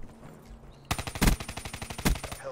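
Rapid automatic gunfire from the Call of Duty video game rattles out in a fast burst of evenly spaced shots, loud and close, with a couple of heavier blasts mixed in, following a brief quieter moment.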